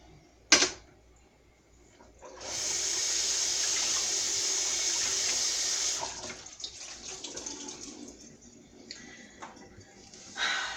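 A sharp clatter, then a faucet runs strongly into a double kitchen sink full of pots and pans for a few seconds before shutting off, leaving faint kitchen clinks and rustles.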